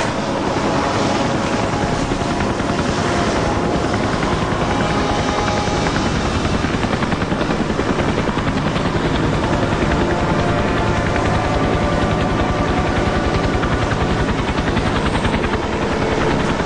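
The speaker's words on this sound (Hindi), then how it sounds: "यहाँ खतरा है, इसलिए हेलीकॉप्टर ऑन रखेंगे।" A helicopter's rotor drones steadily and loudly throughout, a dense continuous whir with no pauses.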